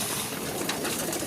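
Pigeons, including males, coo faintly while feeding in flocks, with soft low calls under a steady hiss of background noise.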